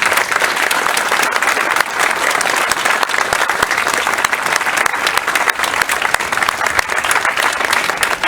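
A crowd at a rally against the closure of the Passion Culture bookstore applauds loudly and steadily, with dense continuous clapping and no pause.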